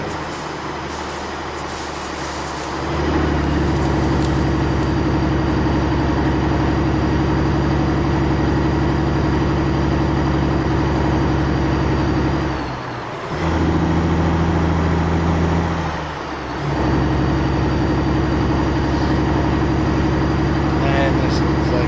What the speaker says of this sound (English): I like the sound of the truck